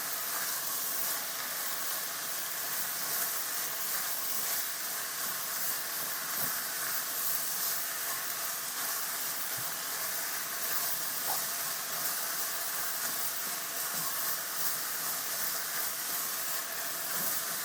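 Food sizzles in a cast iron skillet with a constant broadband hiss that holds at an even level throughout, and no voices can be heard.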